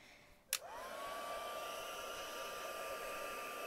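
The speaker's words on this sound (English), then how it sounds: "we're just going to give this a zap with the heat tool" A heat tool blows a steady, loud broadband rush of hot air across a glittered card after a brief click as it switches on, with a sustained whine running beneath the air noise throughout.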